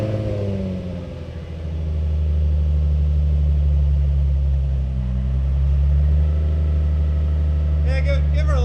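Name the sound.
Nissan 350Z with Z1 Touring exhaust idling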